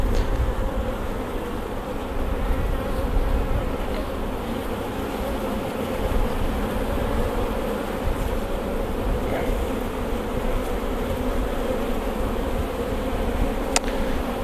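Dense, steady buzzing of honeybees at a large, agitated colony opened for queen-rearing grafting, a continuous close hum filling the whole stretch with no talk.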